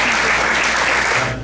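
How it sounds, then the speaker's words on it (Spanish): Loud, close crowd applause welcoming a keynote speaker at a plenary session, thick and continuous clapping that fades at the very end. "recibamos con un fuerte aplauso a nuestro conferencista magistral"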